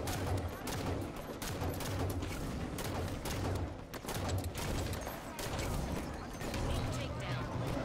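Rapid gunfire in Halo 5 multiplayer, bursts of shots crackling repeatedly across the whole stretch at moderate loudness.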